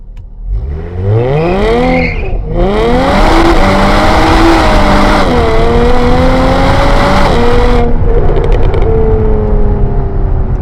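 A tuned V6 Jaguar F-Type accelerating hard through first and second gear, loud engine climbing in pitch, briefly dropping at each shift, then pulling again, close and continuous.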